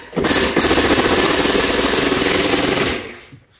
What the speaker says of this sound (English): Which is why I love my impact drill.